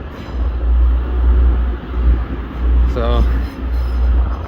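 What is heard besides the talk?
Class 185 train departing Doncaster for Cleethorpes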